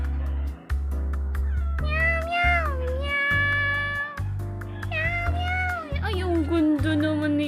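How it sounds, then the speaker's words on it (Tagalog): Cats cry out repeatedly up close, a run of four or five long, rising and falling meows over a constant low droning background. "dami niyang alagang mga pusa talaga"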